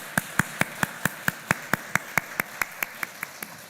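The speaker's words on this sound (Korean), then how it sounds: "한번 우리 박수해 주시기 바랍니다." Rhythmic, evenly spaced claps ring out at a church service, about four per second, crisp and fairly close, steady in tempo and slowly softening, like a congregation clapping in unison.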